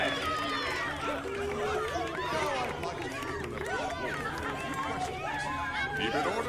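A dense crowd in the video game Minecraft: Story Mode, giving a continuous murmur of overlapping voices and chatter that stays steady and fairly close throughout.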